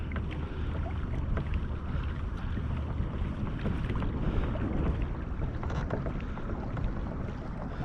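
Nucanoe Pursuit kayak with a Pivot Drive pedal system moving through open water, giving a steady, close wash of water and wind noise across the whole stretch with no voices.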